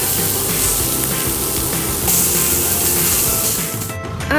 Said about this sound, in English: It's good to scrape all the caramelized bits on the bottom.